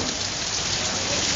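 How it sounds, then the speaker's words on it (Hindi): Rain falls steadily, a dense, even, continuous hiss of drops on surfaces with no breaks and no voices. "क्योंकि बारिश हो रही है"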